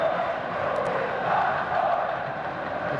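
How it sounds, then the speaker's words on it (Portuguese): Vasco fans fill Maracanã stadium at a 2003 Campeonato Carioca match against Fluminense, a broad, distant roar of crowd noise with a steady wash of chanting and murmur and no single voice standing out. "Maracanã recebe um público muito bom."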